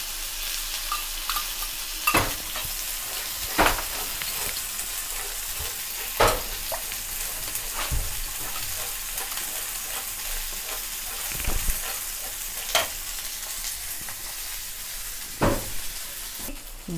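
Chili chicken masala with a little yogurt sizzles steadily in a pan, with repeated scrapes and knocks of a spoon stirring the gravy, close and continuous.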